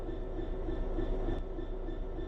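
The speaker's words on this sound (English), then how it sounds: "Let's get the train moving and see it all working." A train in the Train Sim World 3 game gives a steady, low, rolling rumble with faint tonal whines above it. The sound holds a constant level throughout, with no voices.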